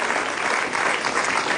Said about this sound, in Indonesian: Oke, tepuk tangan buat Bintang.